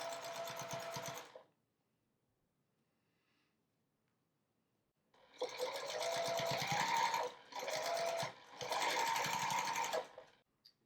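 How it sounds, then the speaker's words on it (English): Sewing machine stitches strips of quilting fabric together for a phone case, a close rapid mechanical whirring in three bursts separated by pauses, with a longer quiet gap after the first run. "So I'm just gonna hold these and sew it together."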